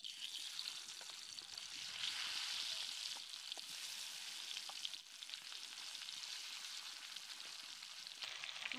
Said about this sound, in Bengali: মাছগুলোকে কিন্তু খুব বেশি কড়া করে ভাজবো না, মাঝারি করে ভেজে নেব।